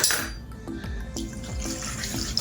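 Milk poured into a mixture of flour and starch for a purple carrot cake, a short continuous liquid stream with gentle splashing and glugging, close and fairly quiet.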